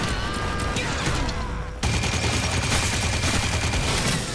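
Dense, sustained gunfire in the video game Drawn to Death: a steady rattling barrage that carries through the whole stretch and grows louder partway in, with no talking over it.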